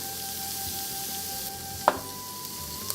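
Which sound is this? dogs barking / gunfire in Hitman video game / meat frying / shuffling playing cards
meat frying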